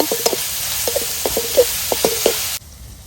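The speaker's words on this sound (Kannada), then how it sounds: "ಚೆನ್ನಾಗಿ ಫ್ರೈ ಮಾಡ್ಕೊಳ್ಳೋಣ" Fish egg burji frying in a pan, village style, with a steady hiss of oil and a handful of short scraping or tapping strokes against the pan before the sound cuts off abruptly.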